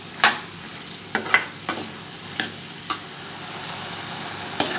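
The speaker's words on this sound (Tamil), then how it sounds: "இது நல்லா வதக்கணுங்க, பச்சை வாசனை இல்லாமல் நல்லா வதக்கணும்." Tomato and onion sauté in an oiled pan for chana masala, a low sizzle running underneath while a spoon scrapes and stirs in sharp, irregular strokes, about seven of them, close and fairly loud.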